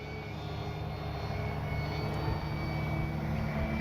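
A large FMS 1400mm Pitts V2 aerobatic radio-controlled biplane flies overhead on a windy day, its electric motor and propeller giving a steady, continuous drone with wind noise throughout, moderately distant and unbroken.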